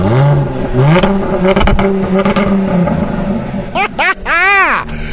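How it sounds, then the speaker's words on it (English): A car engine is blipped with the roof off, roaring and revving in rising and falling bursts, close and loud, with people talking excitedly over it. "Go blip the throttle then."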